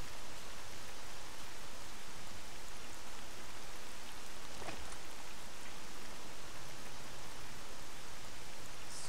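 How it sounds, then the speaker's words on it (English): Steady rain falls throughout in a game set in Pripyat's Jupiter area at twilight, an even wash of dense drops near and loud, with no voices. "And it's still raining"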